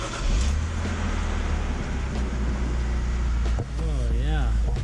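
A BMW E46 car engine idles steadily after starting, a loud continuous low hum with a brief dip near the end, then whining tonal sweeps that may come from the air conditioning.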